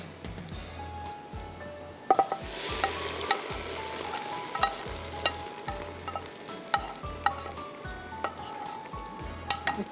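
Chicken masala is stirred in a pan over a close, steady sizzle, with rhythmic scraping strokes and occasional metallic clinks of the spoon. No voices are heard.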